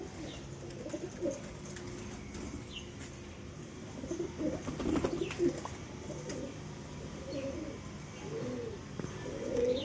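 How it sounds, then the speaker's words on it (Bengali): Pigeons in a pigeon house coo softly in low, rolling calls, several overlapping at moderate distance, with a brief flutter of wings and faint chirps in the background. "আর এই যে এখানে আমার সব পায়রাগুলো পুটুর পুটুর করছে"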